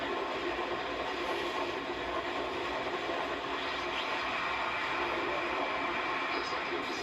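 In the Splinter Cell: Pandora Tomorrow video game, a train passes close by with a steady, dense rumble and rushing noise at Hesperia Railways, loud and unbroken throughout with no distinct breaks.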